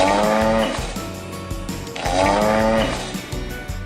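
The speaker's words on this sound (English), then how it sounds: "Cow, cow." A cow moos twice in long, low, drawn-out calls, each swelling and fading, heard over a rhythmic music backing with no talking.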